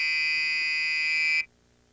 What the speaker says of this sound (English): We had a little fire alarm go off here